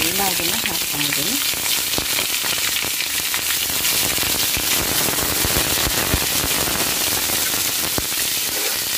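Green chillies, garlic and onion fry in hot oil with curry leaves, giving a loud, dense, continuous sizzle with crackling pops close by and no talk.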